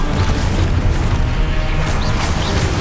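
Spell explosions and combat effects in the video game Hogwarts Legacy, a dense, loud rumble of booms, crashes and impacts running continuously through the whole stretch.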